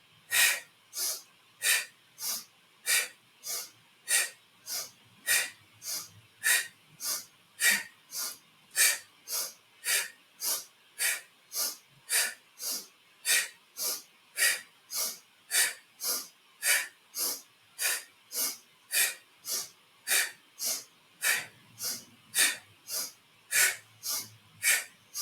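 Rhythmic yogic breathing, forceful nasal inhales and exhales alternating through left and right nostrils, about forty even breaths in steady succession, close and breathy with a hissing edge and no talking.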